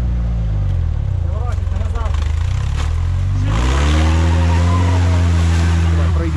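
Off-road 4x4 at a forest challenge competition in Ukraine, the engine revving hard and rising in pitch as the wheels spin in mud, loud and close, with people shouting encouragement over it.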